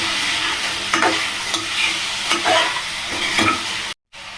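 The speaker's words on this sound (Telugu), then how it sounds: "తగినంత ఉప్పు ఇలా వేసుకొని మంచిగా ఇట్లా కలుపుకోవాలి." Potato aloo fry with coriander powder and salt being stirred in a pan: steady close scraping and stirring strokes over a continuous low sizzle, with no talking.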